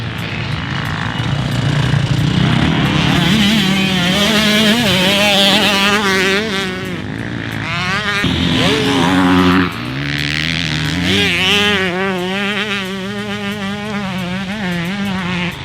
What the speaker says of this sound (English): This bike still wanted to be shifted constantly, and I ended up riding in third gear through many of the corners on the track